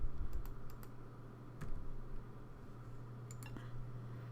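Keystrokes on a computer keyboard while entering an AutoCAD line command: a few quick clicks, a pause, then a short cluster of taps, close and fairly quiet over a faint steady hum.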